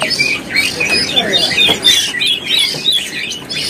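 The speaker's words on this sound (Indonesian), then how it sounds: "udah terpantau rajin bunyi ya dari burung robin nih" Bright, varied magpie-robin song with whistled phrases and squawky notes, repeating continuously over a dense chorus of other birds outdoors.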